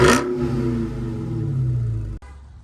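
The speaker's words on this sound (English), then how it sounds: "I'm gonna head and give you guys some quick revs to see how it sounds." A 2021 Dodge Hellcat Redeye engine blips sharply at first, then settles into a deep, steady rumble that slowly falls in pitch before a brief drop near the end, loud and close with no talking.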